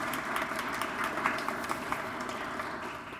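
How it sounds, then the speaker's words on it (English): Audience applause at an arts fellowship awards event, a moderate wash of many hands clapping that sounds somewhat distant and steady for a few seconds before tapering slightly. "Let's give them a round of applause."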